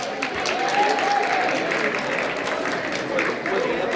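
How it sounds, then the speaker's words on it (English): A banquet audience at a fundraising dinner applauds steadily and loudly throughout, a continuous wash of many hands clapping with faint voices mixed in. "huge round of applause for one more, Surajji"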